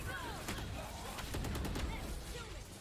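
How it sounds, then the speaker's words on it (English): Rapid rifle fire from a Vandal with the Champion skin in a Valorant esports match, several sharp shots in quick bursts over game noise and a busy background with voices. "Ini efek pakai Vandal Champion cuy"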